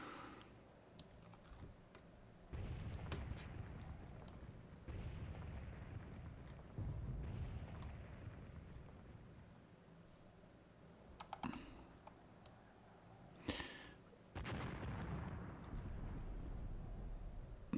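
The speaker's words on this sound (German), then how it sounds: "irgendwo schlägt Artillerie ein" Artillery shells strike nearby in the Combined Arms tank warfare game set in Tunisia 1943, a handful of low, rumbling booms that swell and fade over a steady background, fairly faint and with no talking.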